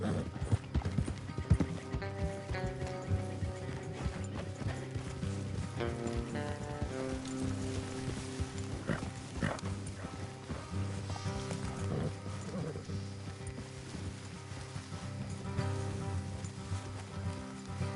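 Horse hooves clip-clop in a steady trotting rhythm under continuous music and mechanical background sound, with an occasional whinny, in the video game Red Dead Redemption 2 on PS5.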